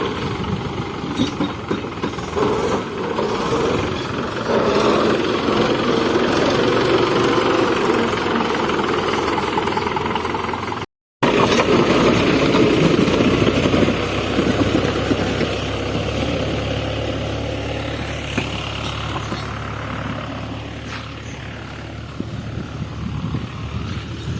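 A heavy tractor engine rumbles loudly and continuously nearby while clearing a buffalo shed, with a brief cut in the middle before it carries on.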